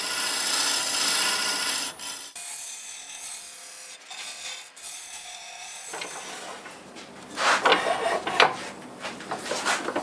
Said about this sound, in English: going to round this over a little bit with the negative rake scraper